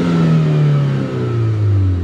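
A 2009 Chevy Cobalt SS engine revs hard nearby, its loud mechanical note sliding down in pitch, dipping briefly, then swelling again over two seconds.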